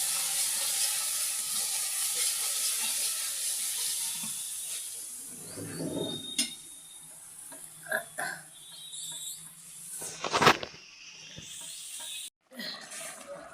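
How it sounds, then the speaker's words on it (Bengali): Spice paste for a pabda fish curry sizzling and frying in a pan as it is sautéed, a steady hiss with occasional louder spits and stirring clatter, talk faintly in the background. "মশলাটা ভালো করে কষানো হচ্ছে"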